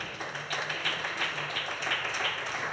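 Rhythmic, steady hand clapping from a church congregation at a worship service, a dense wash of many hands beating together in time at moderate loudness.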